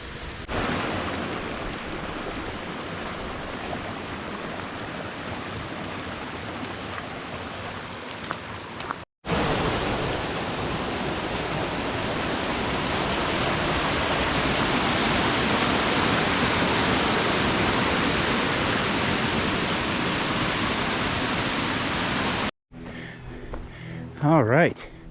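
Steady, dense rush of falling water at MacGregor Falls, loud and continuous with no pauses except two brief cuts, like a waterfall heard up close.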